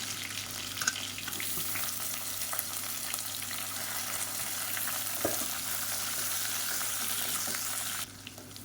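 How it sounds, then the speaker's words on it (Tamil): Sliced onion, mint leaves and curry leaves frying in hot oil, a steady soft sizzle with occasional stirring clinks, continuing without talk until it drops slightly near the end. "இப்போ இது எல்லாமே பொரியுது."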